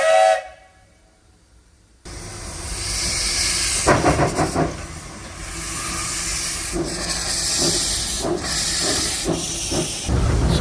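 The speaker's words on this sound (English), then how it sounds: "So let's sit back and take a ride on this historic steam locomotive." A historic steam locomotive at an agricultural museum village sounds loud bursts of hissing steam and whistle blasts after a brief quiet pause, then continues with sustained hiss and repeated rhythmic chuffs close by.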